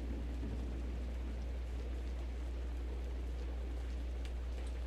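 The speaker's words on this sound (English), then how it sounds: "Oh yeah, it's thundering." Steady, dense rain pours without a break in the video game Distraint, with a low rolling rumble of thunder beneath it throughout.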